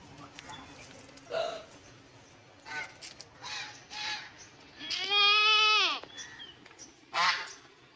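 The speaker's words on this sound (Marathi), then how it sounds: "कशा बांधणं करतात शेळ्या" Several short bleats from goats or sheep, with one long wavering bleat in the middle, heard among faint background noise.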